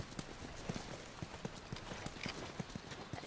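Horse hooves clip-clop in a steady, uneven rhythm at the hydroelectric dam settlement in The Last of Us, moderately close over a soft ambient background, with no talking.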